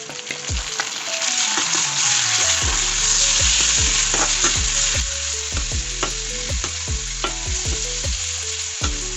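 Pork stir-fries in a hot wok for pork fried rice, with loud continuous sizzling and a rhythmic series of metal spatula scrapes and clanks close by. No one speaks.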